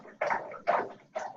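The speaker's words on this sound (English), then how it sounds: "Sounds like a dog drinking water." A dog laps water from a bowl in the background, three rhythmic wet slurping bursts at a steady pace, moderately close and fairly quiet.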